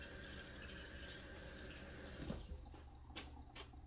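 Hands rinsed under a running sink tap, a steady close rush of water lasting throughout with a brief splash partway through, while cooking BBQ baby back ribs.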